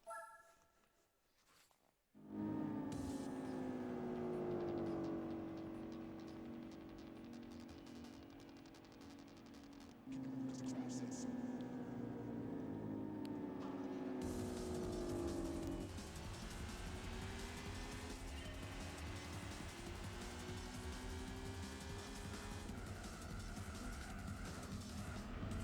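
Race cars from Gran Turismo 4 at a Type R meeting, an International B license event, drone steadily around a long track, engine notes rising and shifting continuously and loud throughout, with a brief quiet start.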